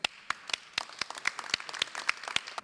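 A small audience at a bill-signing event claps for a senator, with sparse, distinct hand claps spread unevenly across a couple of seconds.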